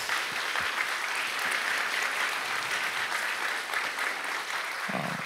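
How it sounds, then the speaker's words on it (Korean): A church congregation applauds God at a New Year's Eve worship service, with dense sustained clapping from many hands that continues at an even level throughout without fading. "하나님께 축하의 박수를 한번 드리면 좋겠어요."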